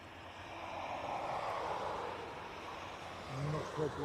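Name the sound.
Ryanair jet departing Dublin Airport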